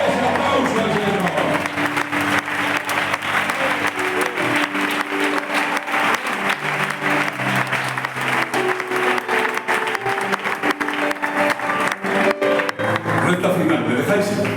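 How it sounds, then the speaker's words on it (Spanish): A congregation at a church service in Palencia bursts into sustained, loud applause lasting the full fourteen seconds, with a voice speaking over the clapping and a held musical tone in the background. "Ese aplauso al Señor."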